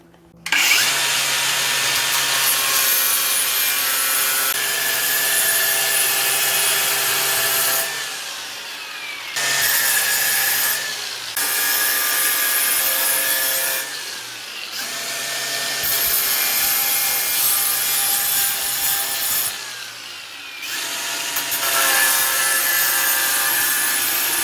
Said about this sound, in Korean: 이렇게 그라인더로 금을 냈으면 벽을 톡톡 치세요.